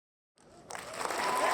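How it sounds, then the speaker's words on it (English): Applause for bass angler Robert G at a podcast recording, starting after a moment of silence and swelling steadily into a continuous wash of clapping that grows louder to the end. "Let's give him a round of applause here."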